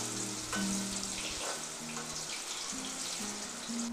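Potato pieces frying in oil in a kadhai for veg biryani, with a steady close sizzle and occasional stirring and clinking, and no talk over it.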